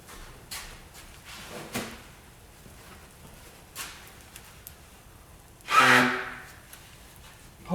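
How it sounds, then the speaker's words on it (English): A single loud nose blow in the middle of a quiet stretch, with a few soft sniffs and rustles around it. "Apologies, me blowing my nose"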